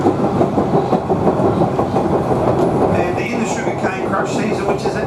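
The Savannahlander train rumbles along the upgraded Chillagoe Mungana line in Queensland, a dense, continuous rattle and clatter of wheels heard from inside the carriage, with faint squeals near the end.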